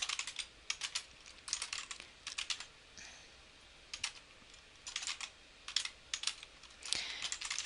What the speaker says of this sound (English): I'll just go ahead and type these in.